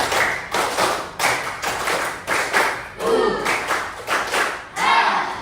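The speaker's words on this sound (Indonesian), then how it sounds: "tepuk tangan buat kita semua" A classroom of students claps hands together in a steady group rhythm, about a dozen sharp bursts of applause in quick succession, close and loud, with a few voices briefly mixed in.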